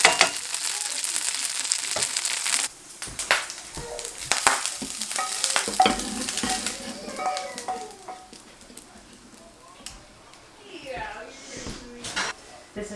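Hominy cooks in bacon grease with loud, crackling sizzle and busy stirring clatter, the frying noise fading somewhat midway while people talk over it.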